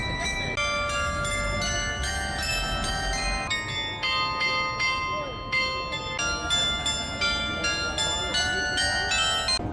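Church bells in Porto ring out on the hour, a loud, sustained peal of overlapping tones that keeps sounding throughout, with street ambience underneath.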